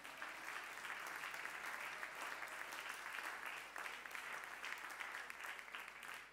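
A church congregation applauds in a dense, steady wash of clapping that fills the hall at moderate distance, sustained without a break and with no speech over it.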